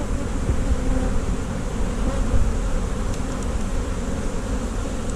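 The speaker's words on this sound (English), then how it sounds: "what you're seeing is the amount of bees that are flying constantly" Honey bees swarm in the air around an open hive while it is being worked, a dense, steady buzzing drone that fills the whole clip without letup, close and loud, with no voices.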